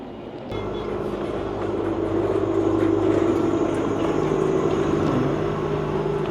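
A steady low rumble and rolling hum of a train moving along rails, sustained and fairly loud, with a faint tonal whine shifting near the end.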